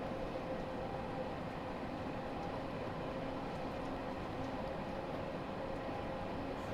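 A passenger train in the Train Sim World 2 game rolls along on an England route, producing a steady, even rumble with a faint whine and no talking.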